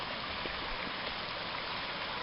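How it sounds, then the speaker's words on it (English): Steady wash of a small brook flowing near a wilderness campsite in Vermont's Glastenbury Wilderness, a continuous broadband rush with no talk over it. "Nice little brook."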